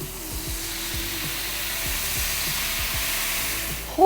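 Red wine added to a mushroom and onion meat sauce in a pan for a steak sandwich: a steady, broad sizzle and hiss, close and even, with faint low bumps beneath.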